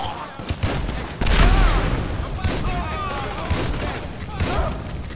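Grenade explosions and rapid gunfire in the video game GTA 5, a heavy boom followed by sustained bursts of shots and rumbling, loud and close, with shouting voices over the battle.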